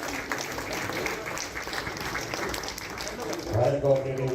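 Guests at a hotel owners' association meeting in a Navi Mumbai hotel keep up a steady patter of applause beneath a voice speaking, the clapping fairly loud with a brief swell near the end.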